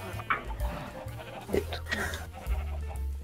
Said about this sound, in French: Je suis attiré par une marée de vaches.